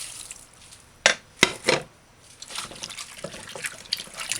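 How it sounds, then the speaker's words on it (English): Water and white vinegar splash over cow tripe in a kitchen, with a few sharp pours and splashes followed by softer trickling and rinsing sounds, close by with no talking. "pour some water, white vinegar"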